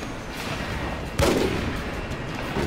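Gunfire in the video game Rogue Warrior: a dense, steady bed of distant shooting with one sharper, louder blast partway through, no talking.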